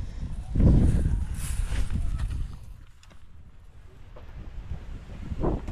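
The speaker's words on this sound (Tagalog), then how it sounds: "Malakas na naman yung hangin." Gusty wind buffets the microphone in low rumbling surges, loudest near the start and again at the end.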